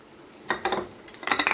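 Sundakkai vathal tamarind curry in a pot is stirred with a metal spoon, giving a quick run of close clinks and scrapes over a soft simmering hiss.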